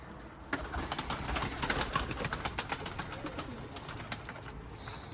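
Pet pigeons or doves coo softly in their coop, with repeated low calls nearby, small rustles and some movement from the birds, and no talk.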